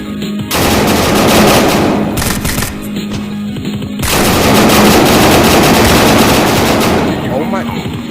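In a video game, rapid automatic gunfire rattles in loud, dense bursts with brief gaps between them, close and dominant, and players talk over it.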